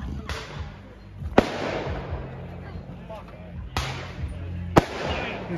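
Fireworks go off at a campout in four sharp, separated bangs, each booming and then echoing away, with chatter and background voices between the blasts.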